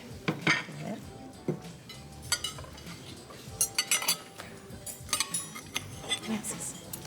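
Plates and cutlery clink in scattered, sharp bursts as a meal is set down at a table, with light movement between the clinks and faint voices in the background.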